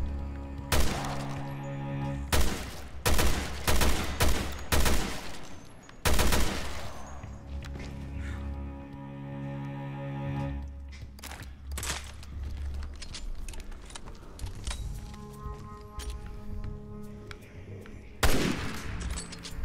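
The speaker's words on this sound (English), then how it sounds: "what a powerful gun" A heavy, powerful gun blasts in the Resident Evil Revelations 2 video game, with loud repeated shots in bursts over clattering mechanical action and game effects, no talking.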